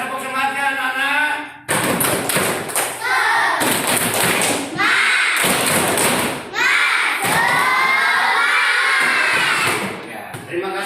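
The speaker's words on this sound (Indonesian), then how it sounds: "Mana tepuk semangatnya anak-anak?" Schoolchildren in an Indonesian classroom perform a spirited clapping cheer, loud rhythmic bursts of claps, thumps and shouted chanting in close succession, with brief pauses between sections and voices throughout.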